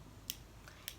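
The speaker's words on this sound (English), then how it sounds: "my pencil just broke." A pencil snaps with two faint, sharp cracks, the second following about half a second after the first, in a quiet room with no talking.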